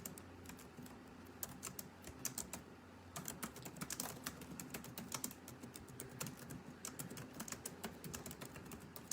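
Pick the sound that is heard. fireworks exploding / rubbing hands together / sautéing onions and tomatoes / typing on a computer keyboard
typing on a computer keyboard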